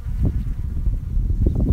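Honeybees buzz continuously on a hive frame where new bees are emerging from their cells, a close, steady low drone that swells slightly toward the end.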